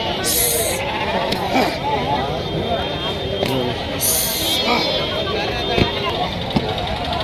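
Young goats or lambs bleat repeatedly at a crowded livestock market in Kerur, with steady voices and crowd chatter underneath and occasional louder nearby calls.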